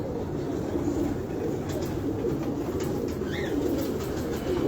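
Pigeons coo in a loft, soft low calls half-buried under a constant loud rushing background noise.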